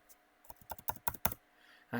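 Keys clatter on a computer keyboard in a quick, uneven burst of close clicks, typing a command in Windows, fairly soft, with a short rustle at the end and no talk.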